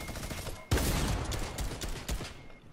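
Tactical shotgun blasts in Fortnite, a sudden loud boom followed by a few more sharp shots spaced across a couple of seconds over busy game noise.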